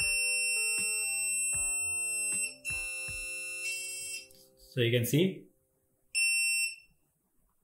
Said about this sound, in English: now buzzer is started sounding after every interval